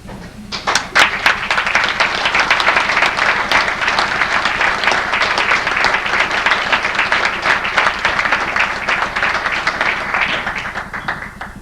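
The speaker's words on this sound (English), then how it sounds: "stand up and give yourselves a good round of applause" Active members of a fire company applaud themselves at an honours ceremony. Sharp individual claps open into a full, sustained round of clapping from a roomful of people, which holds steady and eases slightly toward the end.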